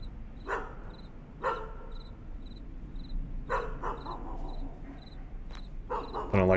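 A dog in the Homeless video game barks several times, loud and close, in short bursts over a low hum, with a faint repeating electronic beep in the background.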